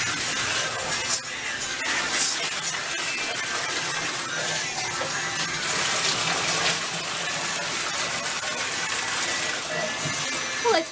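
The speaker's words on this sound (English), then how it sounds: "Somebody's getting a bath." Bath water runs steadily from a tap into a tub, a continuous close gush of splashing and hiss that holds level throughout.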